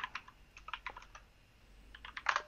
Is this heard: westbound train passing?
no